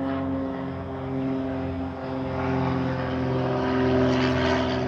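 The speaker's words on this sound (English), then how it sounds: "Airplane!" A propeller airplane drones overhead, a steady loud engine hum with strong tonal harmonics that swells slightly as it passes, heard alone.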